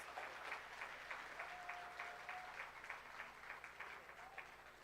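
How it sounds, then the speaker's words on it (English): Audience applause at the JTA Golden Torch Award 2024 ceremony honouring award recipients: steady, dense clapping from a sizeable crowd in a hall, sustained throughout with a faint tonal ring threading through it. "Let us have a round of applause for all our recipients."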